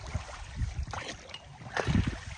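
Water sloshing and splashing against a small motorboat as it moves on a pike-fishing trip, with low rumbling and irregular lapping close by.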